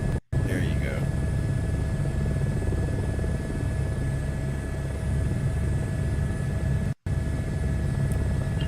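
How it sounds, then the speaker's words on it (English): Helicopter rotor and turbine in Microsoft Flight Simulator 2024, a loud steady thrumming drone with a constant high whine, continuing throughout with two brief cutouts. "You don't so much fly a helicopter, you just keep a helicopter flying."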